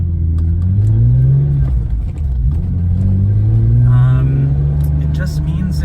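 The 1991 BMW M5's S38 engine idles close by with an uneven, loping hot-rod rhythm and a deep rumble that swells slightly, while someone talks over it.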